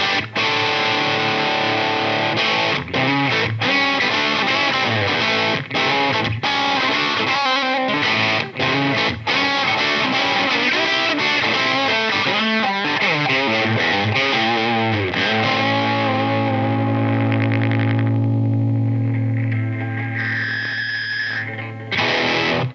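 Electric guitar, an Epiphone Les Paul Special on its P90 neck pickup, with a warm, rounded jazz tone, notes and chords ringing continuously and fairly loud, ending on sustained low notes.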